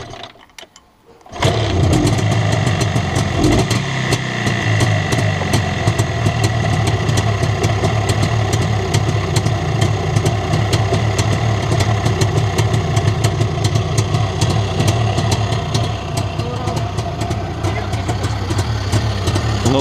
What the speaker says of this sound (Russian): Холодный мотор абсолютно. Давай, запускай.